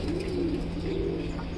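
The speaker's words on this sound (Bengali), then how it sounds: "এই হচ্ছে আমার বাদ বাকি সব কবুতরগুলো" A flock of domestic pigeons kept in a loft coos steadily, with low rolling coos continuous and close throughout, over a faint constant hum.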